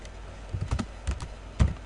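Brief burst of typing on a computer keyboard, a handful of quick plastic key clicks in two short clusters, close and clear in a quiet room.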